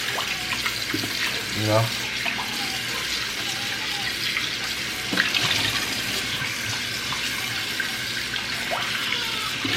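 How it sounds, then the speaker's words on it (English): Tap water runs steadily into a kitchen sink while raw meat is rinsed under it, a close, continuous splashing stream with a few brief clanks, as a person talks over it. "I usually rinse until I don't see, like, you know, the blood in the water."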